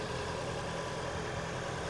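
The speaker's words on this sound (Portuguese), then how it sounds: "O amigo vai dar partida aqui no motor para a gente escutar o carro funcionando." A cheap used car at an outdoor used-car market in Caruaru runs at idle, a steady low engine rumble with no breaks, moderately faint and continuous.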